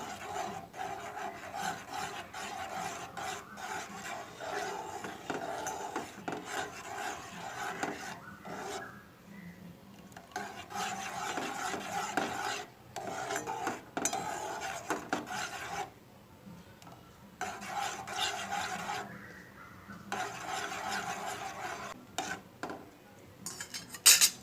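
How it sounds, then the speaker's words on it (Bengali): A spoon or ladle scrapes and rubs against a pot while beaten egg is stirred into vegetable soup, soft near scraping in bursts with short quiet gaps between. "তো দেখো আমি ডিমটা কিন্তু অল্প অল্প দিয়ে কিন্তু নেড়ে নেব"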